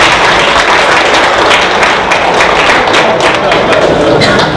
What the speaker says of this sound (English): So keep the claps going.